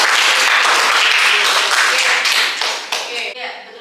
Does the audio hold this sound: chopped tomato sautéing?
no